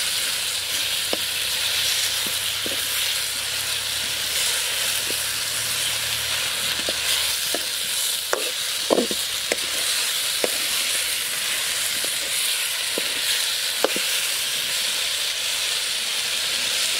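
Pork pieces sizzle and fry in a pan during a village-style Assamese pork curry with arum and spinach, a steady bright hiss with scattered pops and crackles, no talking.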